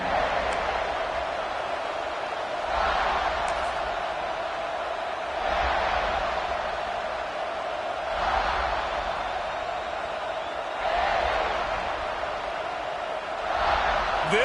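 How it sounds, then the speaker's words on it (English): A football stadium crowd roars in rhythmic swells, rising and falling about every few seconds like a chant. The noise is distant and steady, with faint talk underneath. "This crowd ready to make its presence known."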